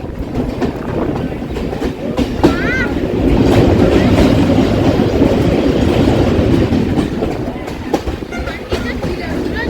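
At Nialipur station a train rolls in, wheels clacking rhythmically over the rails beneath a loud steady rumble, with background voices.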